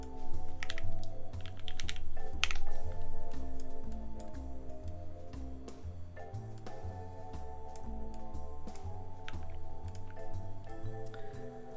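Fast continuous typing on an AEBoards Constellation mechanical keyboard during a typing test, dense rapid key clacks with occasional heavier strokes, close and steady, no talking, over faint background music.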